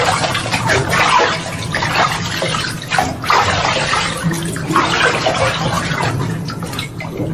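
Steady, strong stream of bath water pouring from a shower fed by a pump drawing from a tubewell below, a continuous splashing rush with no voices.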